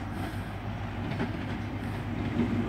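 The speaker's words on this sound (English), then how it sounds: "as this one comes in, as the HST comes in" A Great Western Railway HST with power cars 43180 and 43161 rolls into Worcester Shrub Hill station, a steady low rumble and hum of the train running continuously and fairly loud throughout.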